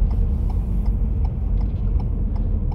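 A car's turn signal indicator ticks steadily inside the cabin at a junction, faint regular clicks about every half second over a low engine rumble, with no talk.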